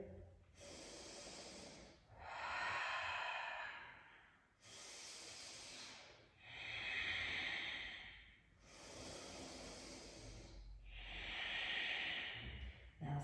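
Slow, deep breathing during a pregnancy yoga pose, with three long airy exhale cycles at a steady rhythm, close and soft in a quiet room, no one talking.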